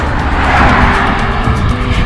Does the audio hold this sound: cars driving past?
yes